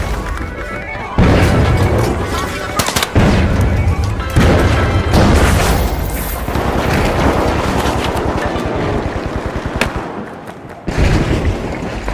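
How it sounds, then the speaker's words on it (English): A frag grenade blasts in the game The Finals, with several loud, booming crashes amid dense gunfire and clattering action, as heavy bursts repeat for seconds before cutting out and returning. "Tossing a frag."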